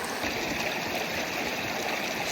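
Mountain stream water rushing steadily beside an alpine lake, a continuous close, fairly loud flow with gurgling texture and no pauses.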